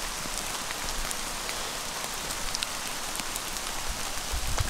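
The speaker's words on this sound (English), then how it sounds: "You get hail coming down, keeps it off of your head and face." Hail pelting a wide brim hat in the Utah wilderness near Forest Lake, a dense steady patter of sharp close impacts with no pauses and no voices.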